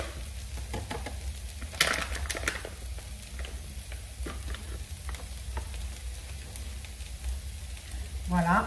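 Leeks and lardons frying in a pan, a soft steady sizzle with a few scraping stirs, fairly quiet and heard alone.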